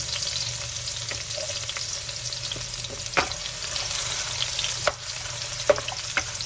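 Garlic frying in a pan for chicken chopsuey, a steady close sizzle with a few light clicks and scrapes of a utensil scattered through it, no one speaking.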